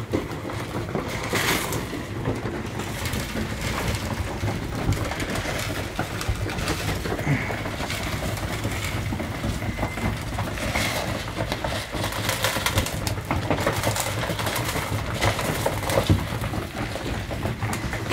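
Pigeons coo and shuffle around during young bird training, a continuous busy, low murmur of soft calls and wing and foot movement, fairly close with no talk.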